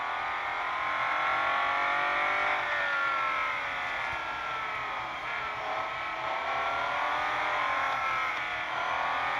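Lamborghini Veneno engine in a racing video game, a sustained high whining roar that climbs and shifts in pitch as the car accelerates, steady and close with no voices.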